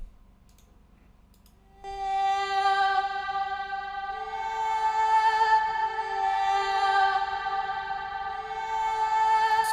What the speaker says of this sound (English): This is the plugin I'm using for my vocal chop